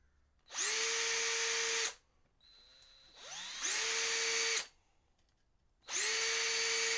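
Three bursts of a power drill boring holes into a guitar top, each whine lasting just over a second with short quiet gaps between, close and loud with no talk.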